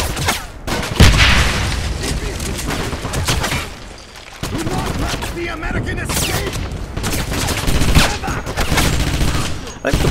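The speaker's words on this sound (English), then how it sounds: "they are tossing grenades at me" Wolfenstein (2009) video game combat: loud, continuous bursts of gunfire and grenade blasts, with a heavy thump near the start, a brief dip around four seconds, then dense shooting resumes to the end.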